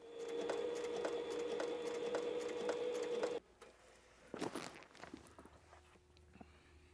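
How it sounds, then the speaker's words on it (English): A sewing machine backstitching a custom leather tool belt runs in a steady, loud, rhythmic whir for about three seconds, then stops, leaving quieter handling noises and a few scattered clicks. "I'm just manually backstitching here just to make sure this looks perfect."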